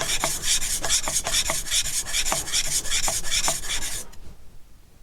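A knife's convex bevel is worked vigorously on an oiled medium sharpening stone, giving steady back-and-forth rasping strokes with sharp scrapes at each turn, close and loud, stopping near the end.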